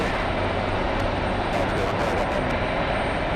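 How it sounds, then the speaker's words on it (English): An Emirates Airbus A380 taxiing to a gate at JFK airport gives a loud, steady broadband jet roar that stays constant and close throughout, with no break. "Looks like we will have the Emirates A380 park at gate 7"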